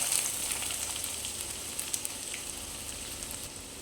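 Chopped onion frying in hot oil in a pan, a steady close sizzle with faint crackles and pops throughout, no voices.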